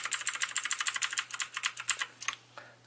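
Rapid run of keystrokes on an Azio MGK1 RGB mechanical keyboard, a dozen or more close, crisp clicks in quick uneven rhythm, fairly loud and alone, thinning out toward the end.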